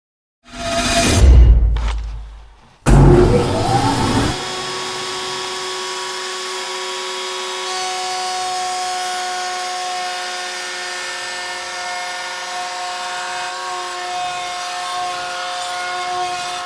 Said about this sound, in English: each surface will receive several passes over the router table, removing material